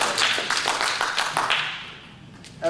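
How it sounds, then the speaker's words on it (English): Short round of clapping from a lecture hall audience, scattered sharp claps fading out after about two seconds, with a voice starting at the end. "Will people clap for me now?"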